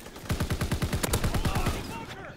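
Rapid automatic gunfire in Call of Duty: World War II multiplayer, a fast burst of about a dozen close, evenly spaced shots followed by fading echoes and game ambience.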